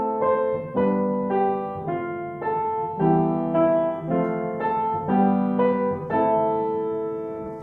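A piano plays a steady series of chords with a melody on top, the sustain pedal lifted at each chord change so each sounds clean and separate rather than blurred together.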